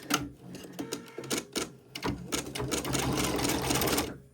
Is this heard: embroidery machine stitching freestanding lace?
yes